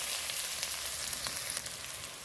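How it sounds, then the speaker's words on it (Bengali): One sliced onion frying in oil in a pan, a bright steady hiss with faint crackles, close and continuous, with nobody speaking. "পেঁয়াজটা লাল করে ভেজে নেব"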